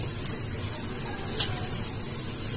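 Panch phoron spices frying in oil for a mango pickle give off a steady, low sizzle with a few faint clicks of stirring.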